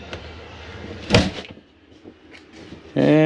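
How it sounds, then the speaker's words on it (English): The exterior door of a Jayfeather 25RB travel trailer swings shut with one sharp thud, followed by quieter rattles and then a voice starting to talk. "Shut your exterior door."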